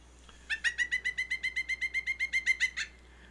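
A rapid, even series of about fifteen loud, clear whistled notes in a steady rhythm, with a monkey-like quality, made as a bird call by a person imitating it, close and isolated.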